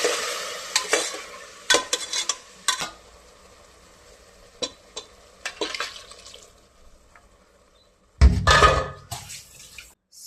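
Masala is stirred in a frying pan for soya chunks pulao, giving bursts of scraping and clattering followed by soft sizzling, with a louder clatter near the end.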